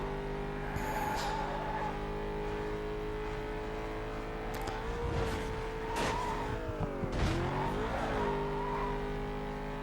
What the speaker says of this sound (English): we are using a race car, very much like the N3 GTR. And this thing has got superb speed.